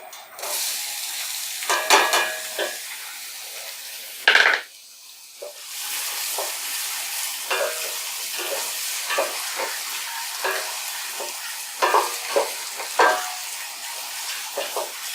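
About one and a half cups of chopped onions frying in a pan for a beef liver dish, a steady sizzling hiss broken by repeated scraping stirs and clanks of the utensil, close by.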